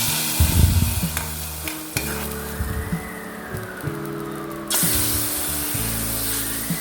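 Hot fried onions poured into a coconut-based mackerel curry, giving a loud burst of sizzling and spattering that settles into a steady crackle, with stirring and scraping against the pan alongside.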